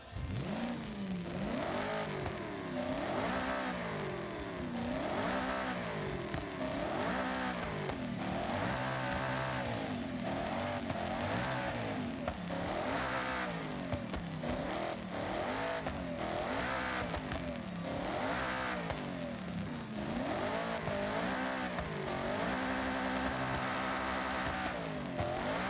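Car engine in the Forza racing game revving repeatedly, with the pitch climbing and falling in regular waves across the whole stretch, loud and steady with no talking.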